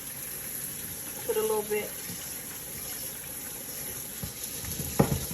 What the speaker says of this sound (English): That stops the cooking process on the noodles once you pour cold water over it.